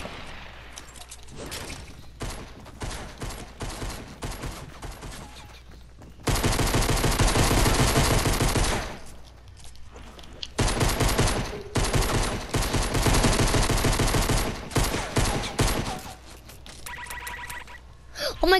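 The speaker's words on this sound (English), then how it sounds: "someone had a minigun and then started shooting us" Sustained bursts of minigun fire in the Fortnite battle royale game, loud and dense, broken by short pauses among scattered other gunshots and game noise.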